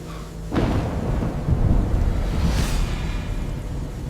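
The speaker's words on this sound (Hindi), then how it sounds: "गर्ज की आवाज आती है" Deep thunder rumble in rain, a sudden low boom that rolls and swells into a sustained heavy roar, loud and close, with no talk.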